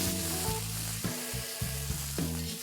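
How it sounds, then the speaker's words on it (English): Garlic paste and five ground green chillies sauteing in a pan for mutton hara keema, a steady close sizzle with a few stirring scrapes, no voices. "Let's saute this till the raw smell goes off."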